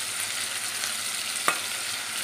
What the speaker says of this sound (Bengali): আদা বাটাটা দিয়ে একটু কষা কষা হয়ে যাবে, তেল ছেড়ে দেবে